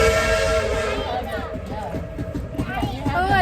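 Onboard a moving train, a loud whistle-like tone and rushing rail rumble fill the space, with a person talking over the noise.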